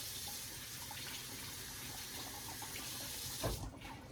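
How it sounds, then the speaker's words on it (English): Tap water runs steadily as carrots are rinsed in a kitchen sink, a faint continuous close splash with a brief disturbance near the end as the flow is interrupted. "What we're going to do is we're just going to rinse them off,"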